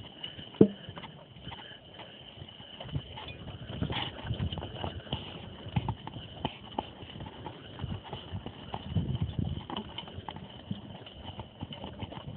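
Logging horses' hooves clop irregularly on the ground at a moderate distance, a loose patter of steps over a faint steady hum.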